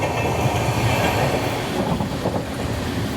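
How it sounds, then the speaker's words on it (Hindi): The Mandavi Express rushes past on a parallel track, a loud close rumble with clattering wheels and rail noise filling the whole stretch, no voices. "Crossing Mandvi express."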